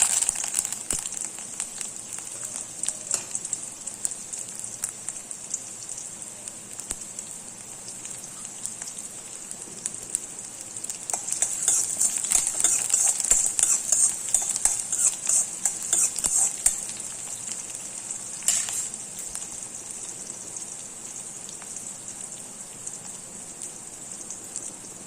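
Mustard seeds, onion and curry leaves tempering in hot oil, a continuous crackling sizzle with fine popping that swells in the middle and near the end, close and alone without talk.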